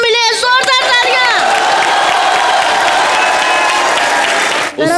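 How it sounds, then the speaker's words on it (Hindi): A television comedy studio audience breaks into loud, sustained applause and cheering for three superstar guests, with whoops rising over the clapping before it dips briefly near the end. "जोरदार तालियां।"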